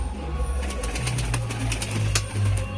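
An old Rajshahi Giribaz pigeon coos softly in low, rolling bursts over faint background noise, close by, with no talking.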